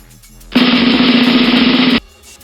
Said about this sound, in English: drum roll,